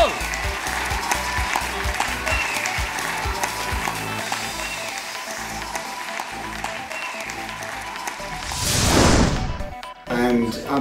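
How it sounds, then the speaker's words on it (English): Applause for award winners at a TheKnowList Awards ceremony, steady clapping from the audience that carries on under a few louder bumps and a burst of noise near the end. "A round of applause to both."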